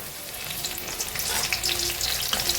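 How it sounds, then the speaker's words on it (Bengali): Sweet corn kernels frying in hot oil for crispy corn, giving a steady close hiss and crackle of sizzling that runs without a break, with small pops scattered through it. "তেলটা আমার গরম হয়ে গেছে, সুইট কর্নগুলো দিয়ে দেবো"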